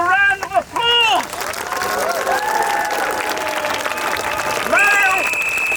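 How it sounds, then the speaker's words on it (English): Crowd applause at an outdoor pro-democracy rally in Southampton, a broad steady clapping wash with cheering, while one voice calls out loudly over it at the start and end. "They deserve a round of applause"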